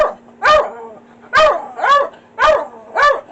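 A dog barks five times in close, loud, evenly spaced yelps with a whiny, whimpering edge, at a friendly home with no talk over the barks.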